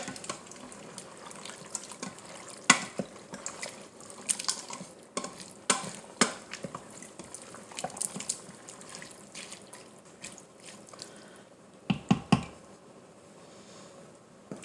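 Water is poured over canned kidney beans and chickpeas in a cooking pot, a running, splashing pour with scattered clinks and stirring knocks, fairly close and uninterrupted by talk.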